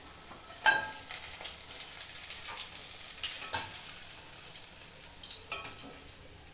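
Ilisi fish frying in oil in a kadhai, a steady close sizzle with scattered stirring clinks and scrapes of a utensil against the pan, no voices.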